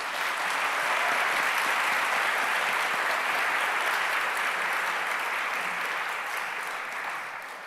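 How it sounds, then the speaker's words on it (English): Steady, dense applause from an audience at a digital preservation awards ceremony fills the room for several seconds, a continuous wash of clapping that holds level and then eases slightly at the end. "I would like to give you a big applause to congratulate all our nominees"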